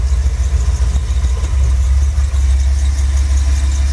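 A car engine fitted with an Edelbrock 650 carburetor idles in gear, holding a loud, steady low rumble with a faint pulsing lope and no voices over it.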